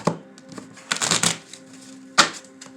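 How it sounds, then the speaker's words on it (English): Tarot cards are shuffled by hand close up in a quiet room, with several quick riffling bursts and soft slaps in an uneven rhythm. "I'm going to shuffle these proper."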